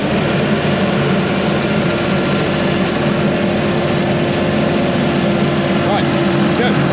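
The engine of an open, cabless Manitou telehandler runs loud and close as a constant low, heavy drone, with only slight variation suggesting a rev over about seven seconds.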